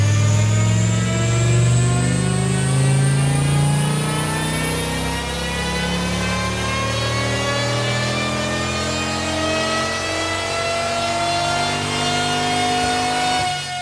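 A tuned Dodge Viper engine on a dynamometer revs loud and steady, its pitch sweeping upward through the RPM range in one continuous pull, with no voices over it.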